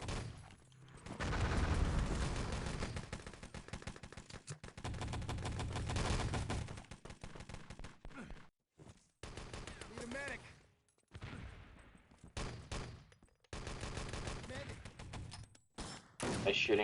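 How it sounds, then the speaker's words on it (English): Bursts of automatic gunfire in the shooter game Enemy Territory during a competitive match, loud volleys broken by short gaps, mixed with commentary-style talk. "Nice shooting by Maguza."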